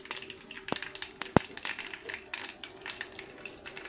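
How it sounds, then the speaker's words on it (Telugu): Whole spices for tempering crackle and pop in hot oil for a sambar, giving scattered sharp snaps and clinks over a steady faint sizzle, close by with no talking. "ఇప్పుడు అవి బాగా చిటపటలాడనివ్వండి"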